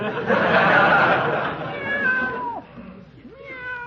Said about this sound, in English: Give the cat a boot if he bothers you